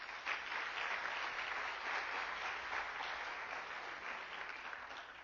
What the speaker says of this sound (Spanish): De nuevo un aplauso para Roberto.